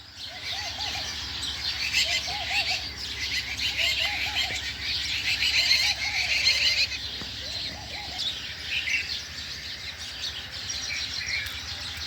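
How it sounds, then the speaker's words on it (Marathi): Sparrows chirp from a bael tree in a village on a morning after stormy rain, with repeated short bright calls layered over steady background chatter of many birds throughout. "चिमण्यांचा आवाज."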